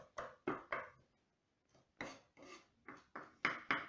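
Knife finely chopping garlic on a board while preparing chicken empanadas, a series of crisp, close chopping strokes in quick bursts of two or three, with a short pause in the middle and no talking.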